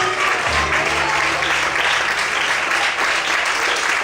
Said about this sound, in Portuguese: Pode aplaudir o Senhor nessa noite